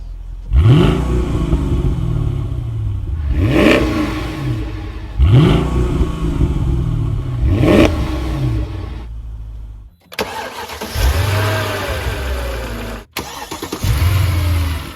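A Mercedes-AMG M156 V8 engine revs hard four times in succession, each rise and fall distinct, followed by a deeper rumbling idle with a couple of blips.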